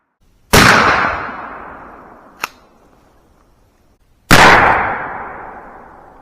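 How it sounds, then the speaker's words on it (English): Two very loud, close blasts from a 12 gauge Remington 870 pump shotgun with a modified choke firing Rio 00 buckshot, each with a sharp crack and a decaying roar, with a small click between them. "Here's shot number 2 with the Rio double aught bucks out of our Remington"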